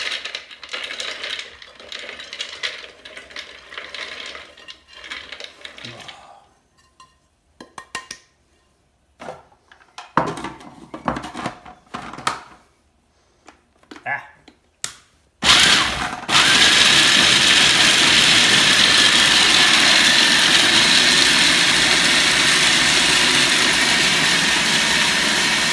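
An electric grinder whirs loudly and steadily, grinding baklava ingredients, after a stretch of quieter, intermittent clattering and knocks.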